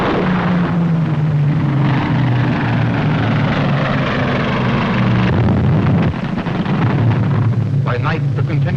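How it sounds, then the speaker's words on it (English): Continuous droning of WWII bomber engines from Halifax, Wellington, Manchester and Stirling aircraft, a loud steady multi-engine hum with slowly shifting pitch that fills the whole stretch, with a brief dip near the end. "By night, the continuous drone of Halifaxes, Wellingtons, Manchesters, and Sterlings off to smash German industry, just as Hitler's invasion fleet was smashed"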